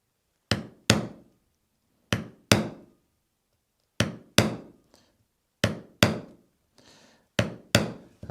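A hammer tapping small metal fittings into a leather trunk, sharp close strikes in quick pairs repeated at steady intervals, each ringing briefly before silence.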